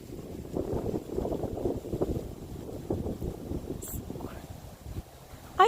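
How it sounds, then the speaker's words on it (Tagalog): Gusty wind buffets a microphone on a farm on a cold, rainy day, a steady low rumble with rising and falling gusts, close and fairly loud, with a brief sharp noise near the end. "Oh, it's windy."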